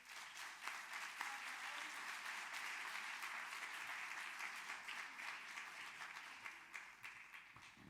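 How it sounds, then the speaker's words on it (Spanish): Applause from family and friends at a memorial tribute in Ibiza, a moderately distant, sustained clapping that swells early and then tapers slightly toward the end. "Un aplauso, por favor."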